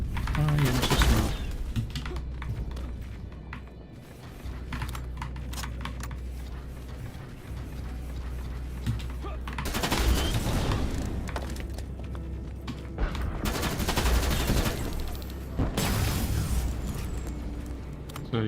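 Bursts of gunfire ring out in the Terminator Resistance shooter game, loud rapid volleys at the start, around the middle and near the end, with quieter stretches of game ambience and keyboard clicks between them.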